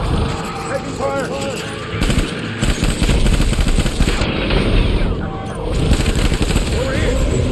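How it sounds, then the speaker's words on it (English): Heavy gunfire in Death Stranding, rapid automatic bursts crackling loud and close, long rattling volleys with short gaps, mixed with explosions and shouting voices. "Heavy fire!"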